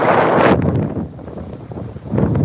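Cold storm wind buffets a microphone on a beach, loud gusts roaring at the start and returning at the end, with a quieter, rumbling stretch of blowing in between and no talking.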